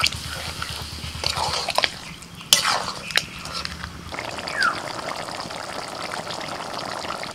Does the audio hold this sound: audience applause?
no